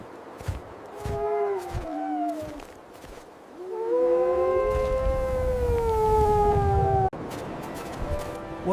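A wolf gives long, rising and falling howls, several drawn-out tones overlapping in a loud, sustained chorus with a brief break before another howl.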